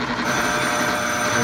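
The score bell of a 1941 International Mutoscope Ace Bomber arcade machine rings in one steady, sustained metallic trill. It is loud and close and runs under the continuous hum of the machine.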